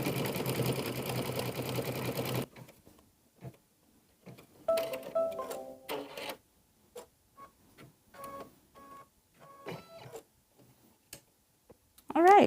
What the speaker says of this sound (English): I'm just going to kind of hold it in the corner for just a few seconds while it begins to stitch.